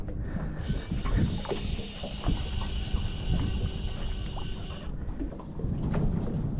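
A motorboat passes on open water, a broad steady hum of its engine rising and holding for several seconds before cutting off, over nearby splashing and rustling movement.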